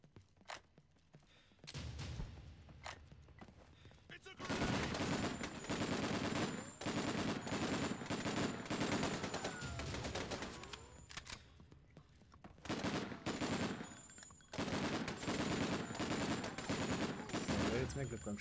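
Sustained gunfire from the video game Breakdown, loud bursts of rapid automatic shots in long stretches separated by brief pauses, with faint footsteps and game noise between.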